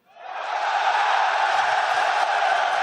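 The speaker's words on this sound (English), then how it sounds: "There should be cheers in the crowd right now." A large crowd in the arena at the League of Legends Worlds semifinal roars and cheers in a sustained, loud swell that rises quickly and holds steady without breaks.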